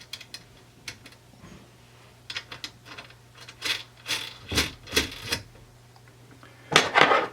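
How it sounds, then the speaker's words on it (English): Nuts being tightened onto inverter battery cable ring terminals, giving scattered metallic clicks, ratchety ticks and scraping clanks at close range, irregular and separated by short quiet gaps, with no speech. "We'll tighten up the nuts"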